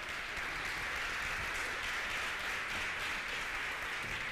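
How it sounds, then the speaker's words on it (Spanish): An audience applauds at a live-streamed health institute event, a sustained, even roar of many hands clapping at once with no voices on top. "Un aplauso para Milagros."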